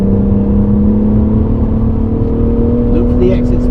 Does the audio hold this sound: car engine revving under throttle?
yes